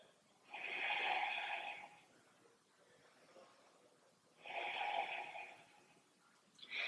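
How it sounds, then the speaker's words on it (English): Two slow, deep breaths during a yoga balance pose, each a long airy exhale lasting over a second, close and quiet with a pause between. "3 deep breaths."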